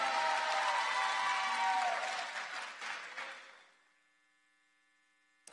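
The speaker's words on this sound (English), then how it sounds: "Let's give them a round of applause" School ceremony audience applauding graduates, a loud dense wash of clapping that fades out after about four seconds, leaving a faint hum behind.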